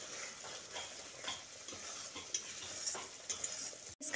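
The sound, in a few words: masala being fried and stirred in a pan for fish curry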